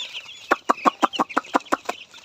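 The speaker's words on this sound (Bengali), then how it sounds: "মুরগিকে" Chickens cluck inside a poultry farm shed, a close, loud run of about ten rhythmic clucks in quick succession with no voices over them.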